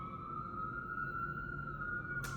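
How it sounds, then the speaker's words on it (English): A steady siren wail holds a sustained tone throughout, fairly loud over a low rumble of traffic, with a brief burst of noise at the very end. "even though we have sirens"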